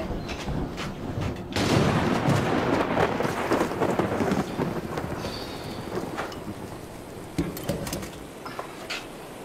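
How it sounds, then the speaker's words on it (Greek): A loud thunderclap cracks and rolls into a long rumble over steady rain, with sharper cracks of thunder later in the storm. "Τι καταιγίδα είναι αυτή σήμερα."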